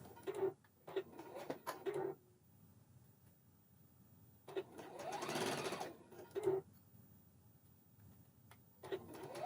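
A Juki coverstitch machine sews narrow elastic on knickers in short bursts of rapid stitching. The bursts are close and clear and are separated by near-silent pauses.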